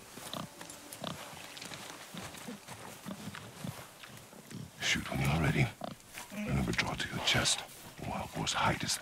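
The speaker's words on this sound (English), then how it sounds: "Are we hunting a pig?" A boar grunts and snorts while being hunted in God of War, amid footsteps and rustling game sounds, with a person talking over it throughout.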